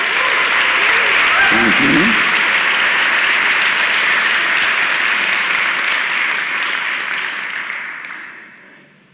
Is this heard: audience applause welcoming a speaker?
yes